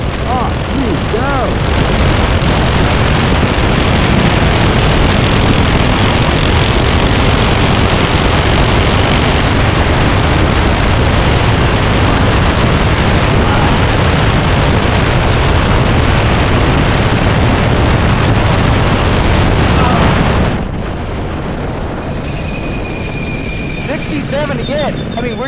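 A motorized stroller engine runs flat out at top speed in a loud, continuous roaring drone with wind rush. It cuts to a lower, quieter idle near the end.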